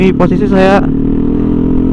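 A Yamaha NMAX 155 scooter fitted with a TZM racing exhaust rumbles with a steady low engine drone while riding, close and loud, as someone briefly talks over it at the start.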